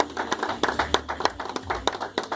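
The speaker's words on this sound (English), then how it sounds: "Can you give a big hand of applause to the young man?" Audience at a Valentine's Day couples dinner at a church clapping hands, a brisk, uneven patter of claps from a modest crowd, fairly close and continuous without speech.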